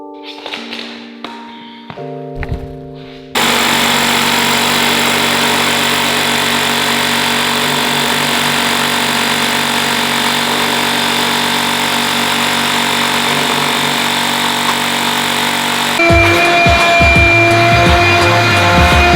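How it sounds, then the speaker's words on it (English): A drill bores 4-inch-deep anchor holes through steel base plates into a shop's concrete floor, starting with a few short bursts, then running as a loud continuous grind, with a shift in pitch near the end. "drill each hole 4 inches deep"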